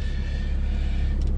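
A 2017 Infiniti Q60 Red Sport 400, a 400-horsepower car in Dynamic Sport Plus mode, holds a steady, close engine drone with a deep rumble, as if revs are held before launch. The drone stays even throughout with no talking.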